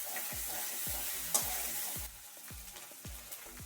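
Cumin paste being fried and stirred in a pan while cooking pumpkin greens with rohu fish: a steady close sizzle with repeated scraping stir strokes, no voices.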